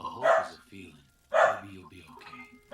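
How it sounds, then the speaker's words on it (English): A dog barks twice in the room, short sharp yaps about a second apart, while a person talks over them. "Sorry about my dog."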